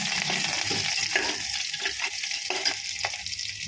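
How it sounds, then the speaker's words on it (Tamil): Garlic frying in a little oil, a close, lively sizzle with stirring scrapes and crackles through the whole stretch, no voices. "பூண்டு கொஞ்சம் வதங்கிடுச்சு."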